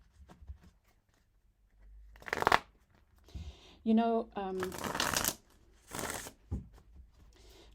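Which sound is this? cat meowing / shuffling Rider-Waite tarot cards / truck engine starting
shuffling Rider-Waite tarot cards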